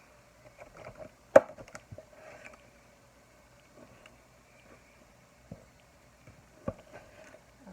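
A knife chops food on a board in a home kitchen, with a few scattered, sharp knocks spread irregularly across a quiet stretch, one louder strike early on.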